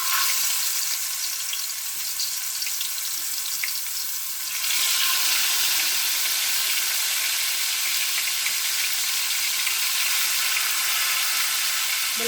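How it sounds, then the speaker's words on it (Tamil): Fish frying in hot oil with mustard seeds and fenugreek for a spicy South Indian fish curry, a steady hiss that swells louder midway and sizzles on continuously, close and without talk. "இங்கிட்டு மீன் பொரிக்கலாம்."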